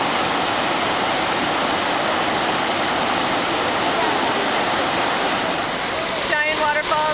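Iguazu Falls in Argentina roars from very close, a massive waterfall producing a continuous, loud broadband rush with no breaks. A faint tonal sound rises at the very end.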